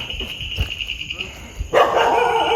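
Dogs barking at the Matheran hill station in Maharashtra: a few sharp barks scattered over busy outdoor background noise, growing louder and denser near the end.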